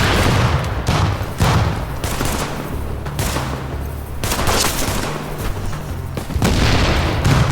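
Rapid bursts of gunfire mixed with deep booming explosions in the video game The Division, loud and close, coming in waves with brief lulls between them.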